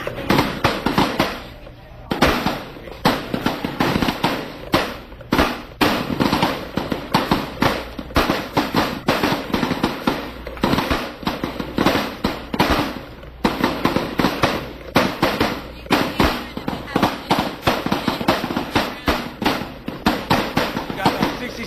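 Rifle shots ring out at an outdoor rifle range, a string of sharp, loud reports repeating through the stretch while an instructor talks and coaches a shooter between them.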